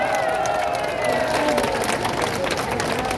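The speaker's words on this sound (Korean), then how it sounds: "다시 한번 큰 박수를 부탁드립니다." Crowd applause and cheering at an outdoor Korean presidential campaign rally in Gunpo for candidate Kim Moon-soo, with dense, steady clapping and a babble of voices filling the whole stretch at close range.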